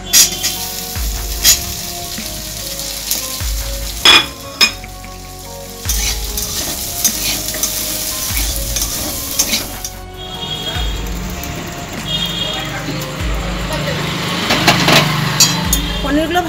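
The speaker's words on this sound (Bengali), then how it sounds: "এরপর পনিরগুলো আমি একটু ভেজে নিচ্ছি।" Paneer cubes fry in a little white oil in a wok, crackling and sizzling close and loud with occasional clanks of stirring, while a voice speaks over the cooking.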